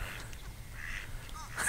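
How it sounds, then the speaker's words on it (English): Mallard ducks quack faintly outdoors by the sea, with a few short, nasal calls over low background noise. "And look, we've got beautiful ducks coming up here."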